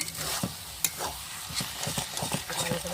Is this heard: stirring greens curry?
yes